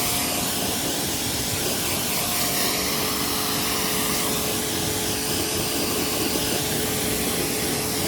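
A pressure washer rinsing shampoo off an Abarth 595 car, producing a constant loud hissing spray that stays steady and close throughout.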